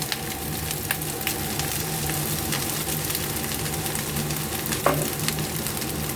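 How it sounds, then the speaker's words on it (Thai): Soy sauce hitting a hot wok of shrimp fried rice: continuous close, crackling sizzle with scattered pops and one sharper hiss near the end, no talking. "ใส่ซีอิ๊วลงไปฟองที่เสียวเลยเฮ้ยซีอิ๊วเสียว"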